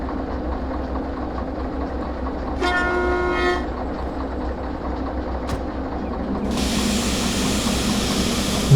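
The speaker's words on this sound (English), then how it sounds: "Now we have to push the train back." Train rumble and rail noise during slow shunting in the Derail Valley simulator game, with a steady low drone, a short tonal horn-like burst near the middle and a broadband hiss rising toward the end.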